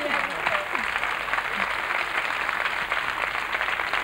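Steady studio audience applause on a 1994 French television tribute show, a continuous even patter of many hands clapping throughout with faint voices mixed in.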